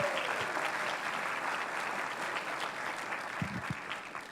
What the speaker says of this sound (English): How about a cheer for Jill Kowinski, please?